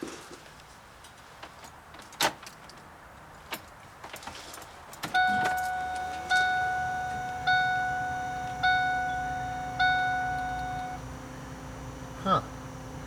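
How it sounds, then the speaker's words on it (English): A key going into a car's ignition with a brief jingle and click, followed by the car's electronic warning chime repeating at an even pace for several seconds, close and clear. "I'm going to put the key in the ignition"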